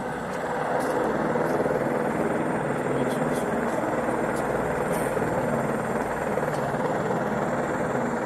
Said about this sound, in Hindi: यहाँ से टेक ऑफ करता है हेलीकॉप्टर